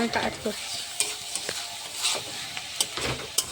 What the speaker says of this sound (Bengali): কমপ্লিটলি সেদ্ধ হয়ে যাবার পরে কিন্তু আমি এটাকে নেড়ে নিচ্ছি।